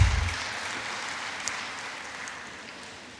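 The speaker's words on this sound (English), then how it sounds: "A round of applause for her, please." Audience applause at a women's forum conference, a steady wash of clapping from a large crowd that starts loudest and slowly fades over a few seconds, with no voices over it.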